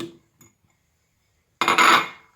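Butter and icing sugar being mixed in a bowl for a sweet pastry dough, heard as a brief scraping and clinking of utensil against the bowl near the end after a faint tap or two.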